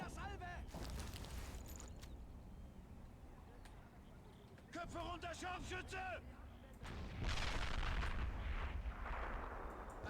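Tank cannon and heavy machine gun fire in the Men of War: Assault Squad 2 game during a Kursk battle mission, several booming blasts and bursts spread unevenly across the stretch, mixed with radio-like unit voices and a speaking player.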